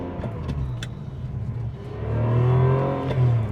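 A 2000 Ferrari 550 Maranello engine warms up nearby, idling with a deep rumble before rising into a strong, sustained rev and then easing back.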